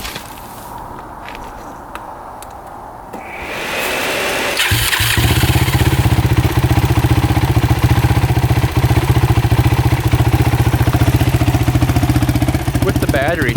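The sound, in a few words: motorcycle engine starting and running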